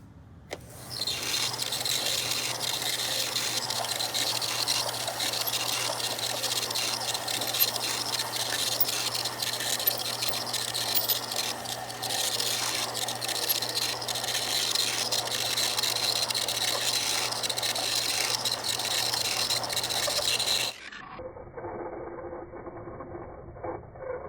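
A solid black basalt sphere is wet-polished with 1500-grit abrasive, giving a steady, loud, continuous whirring hum with gritty hiss that runs for about twenty seconds and then cuts out abruptly to near silence.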